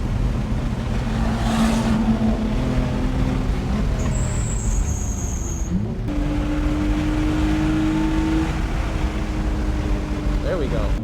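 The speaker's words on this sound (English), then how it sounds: "Run this Ferrari by." A Ferrari racing past on the Sonoma Raceway track, its engine note rising and sweeping by over steady loud wind and engine noise inside another car, with people talking throughout.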